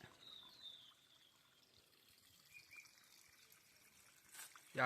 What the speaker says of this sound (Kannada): ನೋಡಿ ಇಲ್ಲಿ ದಾರಿ ಎಲ್ಲ ನೀರು ಹರಿದು ಬರ್ತಿದೆ